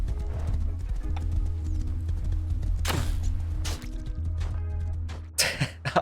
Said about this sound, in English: I headed towards my base location using the horse.